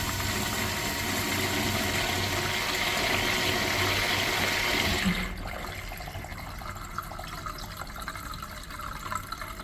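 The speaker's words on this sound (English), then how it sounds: "Let's have a look at a flush." An American Standard Pintbrook washdown urinal flushing, a loud rushing gush of water for about five seconds that cuts off abruptly into a quieter trickle and refill hiss.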